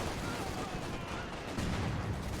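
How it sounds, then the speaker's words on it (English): Artillery barrage in Company of Heroes 2 during a 4v4 match on Lorch, a steady rumbling wash of distant shell impacts and booms that swells slightly near the end, with crackling bursts layered throughout and no clear speech. "Yeah, he dropped an artillery."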